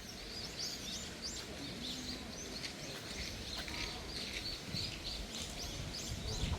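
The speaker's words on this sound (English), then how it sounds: "Oh, can you hear all the birds?" Many birds chirp and tweet all around a temple in Narita, Japan, a busy layered chorus at moderate distance over steady outdoor background noise.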